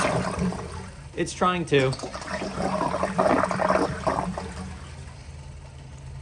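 A 2000 Eljer Signature toilet giving a weak, low-pressure flush, water rushing and trickling for several seconds near the bowl while a person speaks briefly over it.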